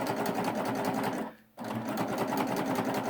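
A chain-stitch sewing machine runs steadily as it sews diagonal lines across fabric, a loud, fast mechanical whir with a brief pause mid-clip before stitching resumes at full speed.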